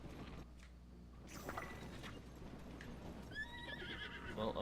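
Horse riding in the video game Zelda: Tears of the Kingdom, with a horse neighing and whinnying and steady clip-clop hooves under a low game ambience, a sharper whinny building near the end.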